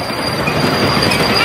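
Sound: live steam locomotive train ride

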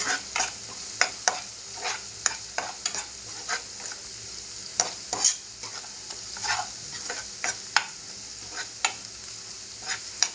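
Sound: stirring Malvani masala and salt in oil

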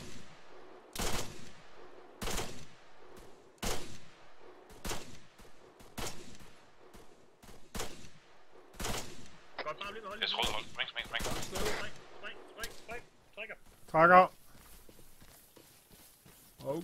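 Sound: gunfire in the video game Arma 3

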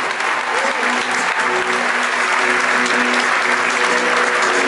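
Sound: audience applause at gala

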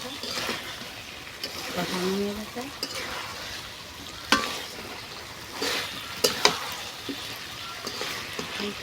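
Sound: duck meat being stir-fried (sautéed) in a pan

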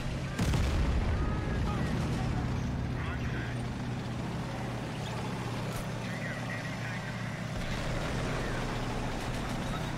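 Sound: artillery fire from video game Men of War Assault Squad 2

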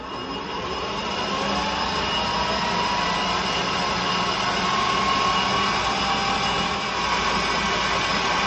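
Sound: metal lathe running at about 1600 RPM

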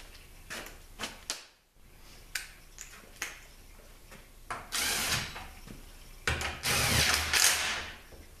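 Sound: putting bolts back into a 6L50 transmission

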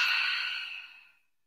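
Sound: deep breathing in and out

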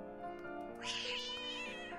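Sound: black cat crying out loudly, audio drama effect

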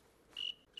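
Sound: cricket chirping in film, grasshopper music

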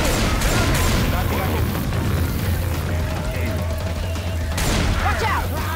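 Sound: gunfire in the video game Left 4 Dead 2

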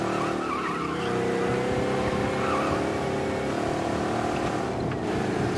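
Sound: car engine driving in the video game Mafia

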